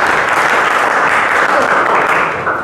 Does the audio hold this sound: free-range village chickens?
no